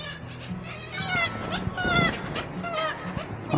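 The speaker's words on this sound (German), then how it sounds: "Da sitzen die Möwen in der Reihe auf dem Giebel." Gulls sitting in a row on a gable in the Norwegian fishing village of Nusfjord squabble with repeated harsh, yelping calls, close and fairly loud, over outdoor background noise.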